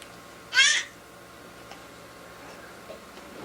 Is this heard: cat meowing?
yes